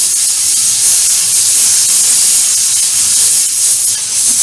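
Steady airbrush hiss spraying paint onto a StuG III Ausf G scale model tank, a continuous close-up airy spray with no breaks.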